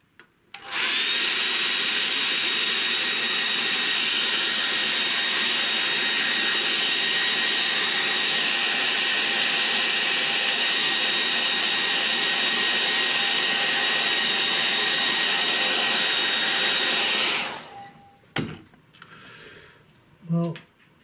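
Hair dryer blowing on an acrylic painting, a loud steady whirring roar held close for about seventeen seconds, then switched off, followed by faint handling clicks.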